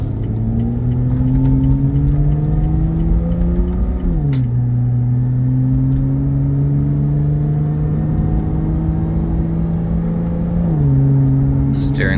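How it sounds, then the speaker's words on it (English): A 2017 Lotus Evora 400 automatic, in sport mode with exhaust baffles open and paddle-shifted, accelerates with a loud, rising engine drone, dipping at gear changes around four and eleven seconds, heard from inside the car. "We're in sport mode with the exhaust baffles open. I'm also in manual mode. This is an automatic, but I'm using the paddle shifters."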